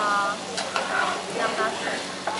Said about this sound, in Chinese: 油晃晃了，再放豆腐里面 炒一炒